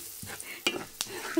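Garlic frying in butter in a pan being stirred, a soft sizzle with a few quick scraping stirs of a utensil against the pan, brief and fairly quiet.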